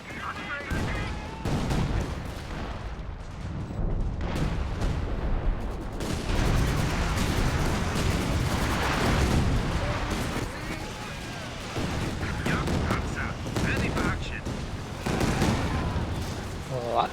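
Artillery fire during a 3v3 Company of Heroes 2 match, dense overlapping booms and blasts rolling almost continuously for the whole stretch, loud and close, with a voice talking over parts of it.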